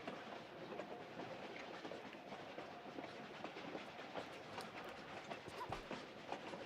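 Train cars rolling steadily along rails in the Tomb Raider IV remastered game, a continuous rumbling clatter with faint rhythmic clicks, moderately loud and without talk.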